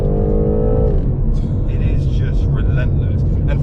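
The engine of a BMW M8 Competition roars under hard acceleration, a deep, loud, continuous rumble with rising tone, while people talk over it.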